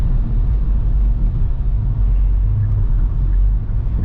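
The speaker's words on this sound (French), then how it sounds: "il y a des voitures aussi à côté" Road traffic near a city bridge gives a steady, loud, low rumble with no single car standing out.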